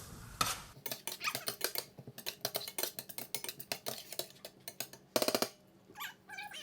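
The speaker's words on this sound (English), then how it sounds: "our garlic and ginger. And we will saute this until it is fragrant" Garlic and ginger sautéing in a pan for a vegetarian paneer masala, heard as a quiet bed of sizzle under repeated clinks and scrapes of a metal utensil stirring against the pan, with a few louder knocks.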